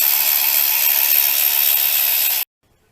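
A ratchet or power tool loosens the valve cover bolts on a 1990 Mazda engine during a timing belt job, giving a loud, steady, gritty whirring that runs for over two seconds and then cuts off abruptly into silence.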